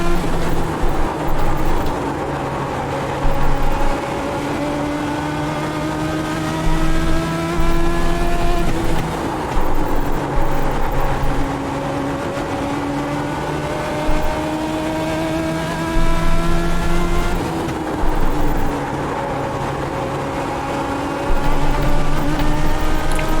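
A Legends '34 Coupe race car engine in iRacing at Langley Speedway, loud and close, holding a steady drone with rising revs that drop sharply at each shift or lift, repeating in laps.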